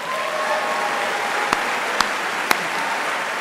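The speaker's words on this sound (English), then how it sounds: "Let's give him one more round of applause." Audience applause at Cornelliana Night 2012 following Glee Club and Chorus performances, a steady wash of clapping from a crowd heard at a distance, with a few sharper individual claps standing out.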